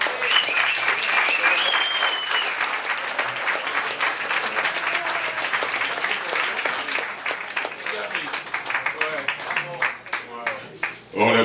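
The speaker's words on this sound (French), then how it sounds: "On l'applaudit encore une fois" An audience at a third-anniversary evening show applauds steadily and loudly for a performer, with dense clapping throughout that thins toward the end. A few voices cheer and call out over the clapping.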